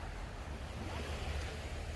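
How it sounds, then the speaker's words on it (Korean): Calm sea waves along the Donghae coast, a steady soft wash of surf mixed with wind noise on the microphone, with no voices. "오늘은 파도가 잔잔하네."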